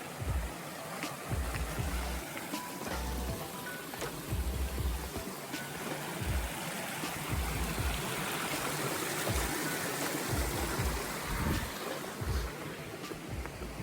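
Continuous rushing water of a stream flowing over rocks at a water crossing on the Appalachian Trail, steady and close, with no voices.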